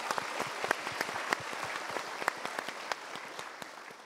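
Audience applause following a prayer: a soft, fairly distant patter of many hands clapping steadily, with sharper individual claps standing out, and no talking over it.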